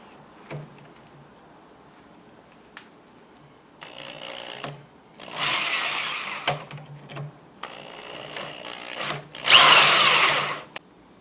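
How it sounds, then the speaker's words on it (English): A power drill whirs in several bursts of rising intensity drilling metal on a Type 81 light machine gun, separated by quiet pauses with small clicks and handling noises. "I'm just going to drill the first hole."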